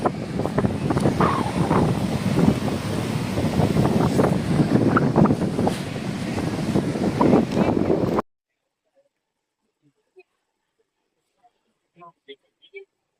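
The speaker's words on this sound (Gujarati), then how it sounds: "ફૂલ પવન આવે છે જોરદાર દરિયાના મોજા ગજબ આવે છે" Strong wind buffets the microphone on a beach beside rolling sea waves, a loud continuous rush for about eight seconds before it cuts to near silence with a few faint ticks.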